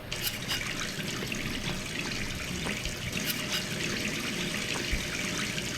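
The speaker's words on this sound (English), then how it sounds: "I get a glass of water. A cup of water." Water running from a bathroom tap into a glass in the game Gone Home, a steady trickling and splashing stream that carries on without pause at moderate loudness.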